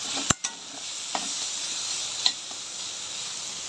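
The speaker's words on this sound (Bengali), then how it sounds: "এটা ভেজে নেওয়া হবে। তেল বসিয়ে দিয়েছি" Okra and eggplant frying in hot oil give a steady, close sizzle and hiss, with a few sharp clicks and pops near the start.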